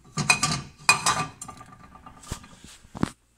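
A frying pan is handled in a kitchen, giving clanking metallic knocks and rattles with two loud clusters early on, then quieter scattered taps and a couple of sharp clinks near the end.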